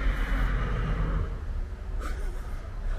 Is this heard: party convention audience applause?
no